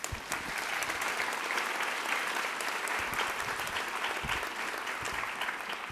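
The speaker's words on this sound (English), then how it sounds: "If y'all could give them a quick hand clap." Steady audience applause at a youth awards ceremony in Monroe County, New York, dense and even throughout with no talking.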